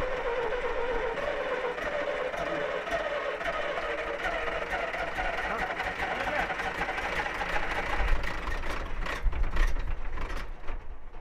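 A steady mechanical clatter and hum from a military-surplus MAN 8x8 off-road truck engine runs close by throughout, with rattling growing busier toward the end.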